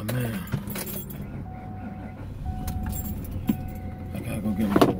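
Car keys jangle close by as they go into a car's ignition before a DoorDash delivery shift, with light metallic clinks and a low engine rumble underneath.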